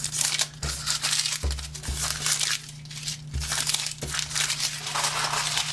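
Knife blade slicing through thin phone book paper, a series of crisp crunching, crinkling cuts in quick succession, close and fairly loud with no talking.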